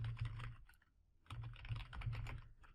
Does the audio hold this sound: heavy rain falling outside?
no